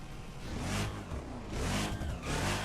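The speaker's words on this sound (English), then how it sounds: "Has almost the exact same engine sound, if not the exact same engine sound as the modern Challenger" Supercharged Hemi Dodge Challenger engine revving in the racing game The Crew, a loud continuous roar that rises and falls in two swelling pulls, heard alone without talk.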